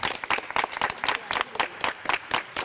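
Studio audience at a comedy game show breaks into applause, a dense patter of many hands clapping in rhythmic, surging bursts that stay fairly loud throughout, with no talk over it.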